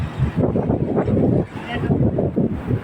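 Outdoor wind buffets the microphone in uneven gusts, rising and falling in rough low rushes with brief lulls, loud and close throughout.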